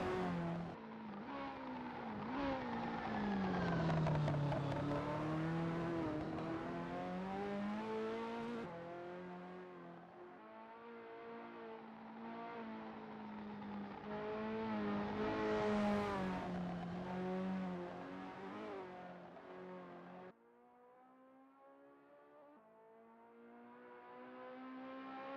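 Ferrari F40 race cars lapping Road America in a racing video game, a loud engine howl that rises and falls through gear changes and revs, with a near car sustaining its drone before a sharp drop to a quieter engine note.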